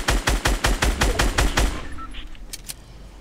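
Rapid automatic gunfire in the video game Fortnite, about a dozen sharp evenly spaced shots in a burst, then trailing off into quieter scattered game sounds and a couple of faint high pops.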